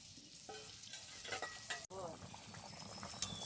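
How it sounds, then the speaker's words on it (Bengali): Fried pointed gourd simmering in a vegetarian curry broth with paneer: a short stretch of bubbling and sizzling with scraping stirs and a utensil clink, moderately loud and close. "পটল দিয়ে খুব ভালোভাবে এটাকে ফুটিয়ে নেব।"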